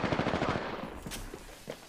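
Rapid automatic gunfire from the Apex Legends video game, a fast rhythmic burst of close shots in the first half that thins into a few scattered single shots and faint impacts.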